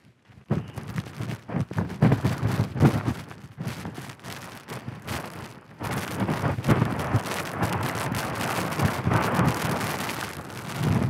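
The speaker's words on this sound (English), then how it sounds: "Although the wind's picking up quite a bit." Strong outdoor wind buffets and roars across the microphone on an exposed edge path, gusting throughout and growing steadier and louder in the second half, with no speech.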